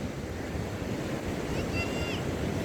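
Ocean surf and wind at Puttandodu beach make a steady, loud wash of breaking waves with rumbling wind noise on the microphone, and a faint high tone passes briefly near the end.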